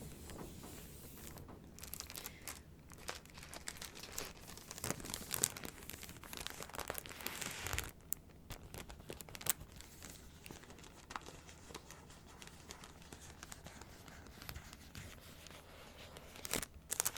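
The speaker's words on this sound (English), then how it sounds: "All the little soft crinkles for you." Album packaging sleeves are handled up close, producing soft, scattered crinkles and rustles in irregular bursts, with a few brief quiet gaps along the way.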